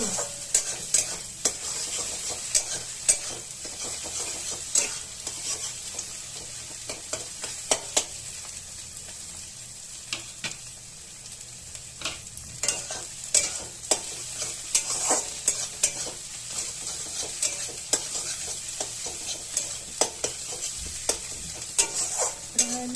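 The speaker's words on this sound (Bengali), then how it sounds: "এখন এই ডিমটা স্ক্র্যাম্বল করে নেবো আমি।" An egg being scrambled in a frying pan, a utensil scraping and tapping the pan in quick irregular strokes over a steady low sizzle, close and continuous.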